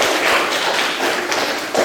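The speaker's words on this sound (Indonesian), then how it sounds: "Ya, kasih aplaus dulu." An audience clapping after a group presentation at an Islamic institute in Ambon, a dense, loud, continuous wash of applause close by.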